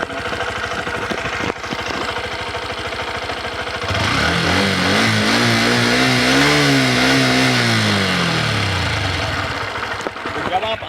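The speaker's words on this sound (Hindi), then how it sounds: "अब एक बार हम हॉर्नेट का साउंड सुन लेते हैं।" A Honda Hornet 125 motorcycle engine idles with a steady mechanical putter, then the throttle is opened and it revs up toward 8000 RPM in a loud, rising then falling whine before settling back to idle.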